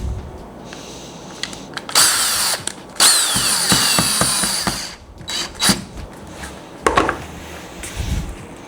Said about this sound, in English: Maybe it moved when I drilled it.